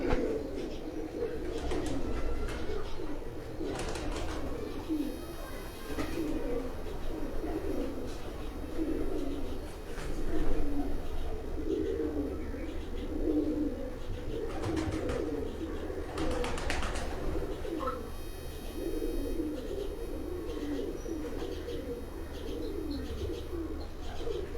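Many pigeons coo continuously in a low, murmuring chorus nearby, with occasional chirps and faint wing flutters over the steady drone.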